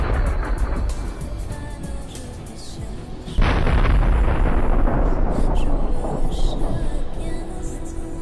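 A tank struck by a kamikaze drone, its 125mm gun shells igniting: a sharp blast lands partway through a rumbling, noisy scene, followed by a sustained loud roar of burning and crackling.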